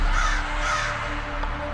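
A crow caws loudly and close, a couple of harsh drawn-out calls running continuously with no talk.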